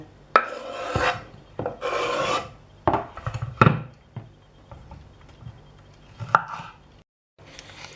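A knife dices a tomato on a cutting board in a salad prep, with close rasping slices and sharp irregular taps against the board, some in quick bursts.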